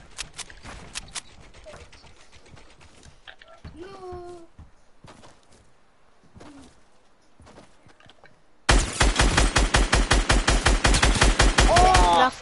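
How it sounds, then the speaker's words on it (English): Rapid automatic gunfire in Fortnite bursts out loudly in the final seconds, following scattered lighter game sounds and effects with a voice talking. "Of course my gun shoots by itself when I'm trying to play it."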